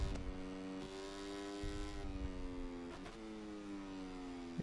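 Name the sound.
Honda Moto3 motorcycle engine accelerating in video game MotoGP 24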